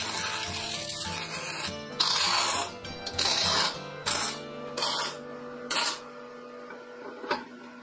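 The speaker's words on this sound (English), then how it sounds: "start tacking this together with a little MIG" Short MIG tack welds joining metal parts for a skull-and-cross candy dish, five or six crackling bursts of a second or so each, separated by brief pauses under a steady background hum.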